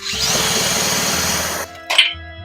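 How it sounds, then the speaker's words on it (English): An electric drill hooked to a snowmobile engine spins it over with a steady loud whirring grind for about a second and a half, then stops, followed by a brief sharp clatter. "hooked up a drill to get it spinning over faster"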